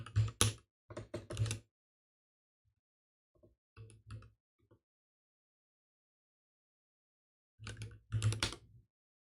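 Bursts of quick, close key clicks on a computer keyboard come in short clusters separated by stretches of silence, fairly quiet and crisp, with no voice present.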